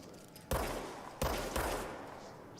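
Two sharp, loud gunshots in the video game Control, each ringing out with a decaying tail over a low background hum, spaced about a second apart with a third lighter report following shortly after.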